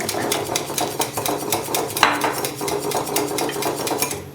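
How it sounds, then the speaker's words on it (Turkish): Eggs are whisked in a bowl for a chicken calamari batter: a fast, steady run of close clinking strokes against the bowl, with no talking. "Yumurtamı çırpacağım"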